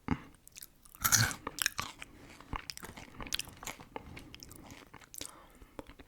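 Close, crisp biting and crunchy chewing of a double cheeseburger with caramelized onion, soft wet bites in an irregular rhythm with one louder crunch near the start, no talking.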